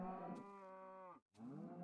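Cows mooing in the video game Minecraft, a long drawn-out low moo that breaks off into a short silence before a second moo begins, loud and close with no talk.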